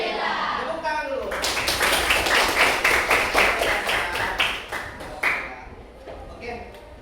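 A class of pupils claps hands together in a rhythmic burst of repeated sharp claps, with voices and chatter mixed through it, close and fairly loud.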